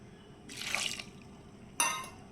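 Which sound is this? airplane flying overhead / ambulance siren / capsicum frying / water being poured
water being poured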